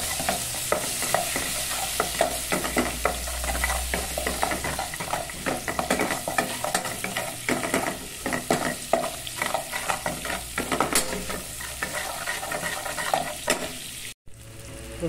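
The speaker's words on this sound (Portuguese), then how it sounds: "Aqui eu vou fazer uma farofa de couve. Uma colher de manteiga. Colocar um pouco de alho." Butter and garlic sizzle and fry in a pan for a Brazilian kale farofa, a steady close crackle with stirring scrapes throughout and no talk.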